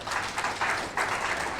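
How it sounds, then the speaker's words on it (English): Applause from an audience of parliamentary staff at a Ugandan government gathering, a steady dense patter of many hands clapping at moderate volume, continuous throughout with no talk over it. "We must clap for ourselves."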